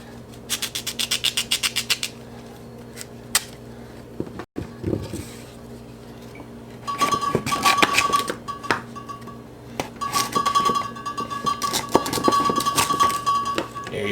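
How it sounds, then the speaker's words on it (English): Potatoes being cut with a sharp knife on a board, rapid rhythmic chopping taps in a quick run at the start, then scattered knocks and clinks of utensils with kitchen clatter. "make sure you're using a sharp knife so that your potatoes cut evenly"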